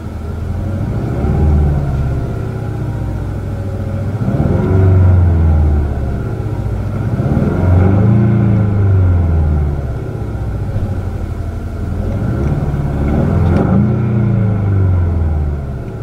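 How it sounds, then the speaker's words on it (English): A 2016 Ford Mustang EcoBoost engine starts and idles with a deep, steady rumble, swelling in a few slow revs before settling back to a throaty idle, close by. "It's got a very nice sounding engine, nice little rumble off it."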